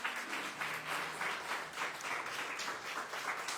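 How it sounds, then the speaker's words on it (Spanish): A church congregation claps for the Lord at the close of a seminar, sending a steady, quiet wash of applause heard from a distance. "Dale un aplauso al Señor"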